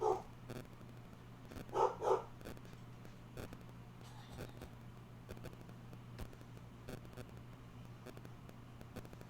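Dogs barking in short bursts indoors, with two or three clustered barks near the start and sparse thuds and clicks over a steady low hum afterward.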